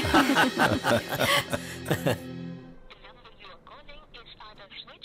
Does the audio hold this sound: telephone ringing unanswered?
yes